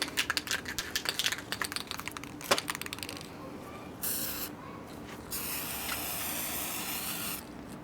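Short hissing bursts of spray paint on 1965 Harley-Davidson Panhead engine parts, then two longer steady sprays, close by, with some clicking and rattling early on.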